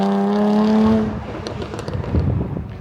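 Jaguar F-Type sports car engine revving, a loud rising tonal growl that cuts off after a second into a crackling, burbling rumble.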